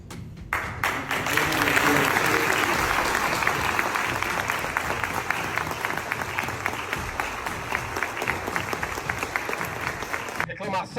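A standing audience at a live public-security event applauds in sustained, dense clapping for about ten seconds, steady and loud before tapering off.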